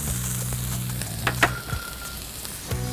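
Cremini, shiitake and oyster mushrooms with onion sizzle in a hot pan, a steady close frying hiss broken by a few sharp clicks and scrapes of stirring, with no talk.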